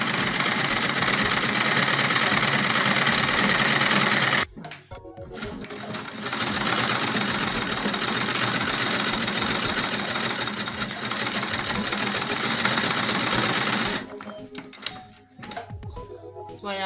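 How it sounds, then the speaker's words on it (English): A sewing machine runs stitches through Ankara African-print fabric for a halter crop top. It whirs in a loud, steady run, stops briefly, resumes for a long stretch, then halts. "So I will go ahead and run my stitches straight down like that."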